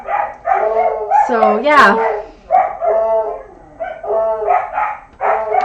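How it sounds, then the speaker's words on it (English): Coco, a female coonhound, barks repeatedly nearby in bursts of loud, howling bays and yips mixed with another dog, while a person talks over the barking indoors. "Now why is she barking?"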